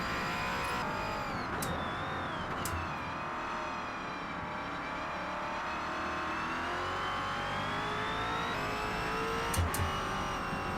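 Next Gen NASCAR stock car in the Forza Motorsport racing game at Mount Panorama, engine howling at high revs with rising pitch sweeps and brief dips as gears shift, loud and continuous.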